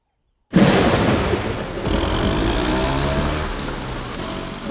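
Thunder cracks suddenly out of silence in a film rain scene, then rolls on as a long, loud rumble blended with falling rain and a vehicle's engine.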